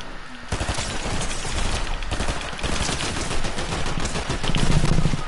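Rapid gunfire from the video game Fortnite, dense bursts of shots firing continuously after a short quiet start, loud and close.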